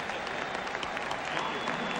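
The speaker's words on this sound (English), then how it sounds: "everybody in this stadium would love to show their appreciation to Kirby Puckett." A baseball stadium crowd at a 1996 World Series game between the Yankees and Braves applauds steadily, a dense wash of clapping and cheering that holds loud and even throughout without any break.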